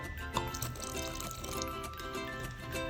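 Water pouring steadily into a pot of rajma in a continuous splashing stream, close up, with no voices.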